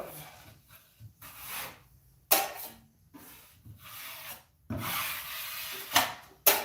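Drywall pan and knife wiping joint compound over tape on a ceiling butt joint, with soft scraping strokes of varying length broken by a few sharper clacks of metal, close and fairly quiet.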